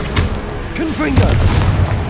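A Confringo fire-blast spell cast in the Hogwarts Legacy video game, heard as a booming burst with a crackling, swooping whoosh, loud and close amid ongoing game effects.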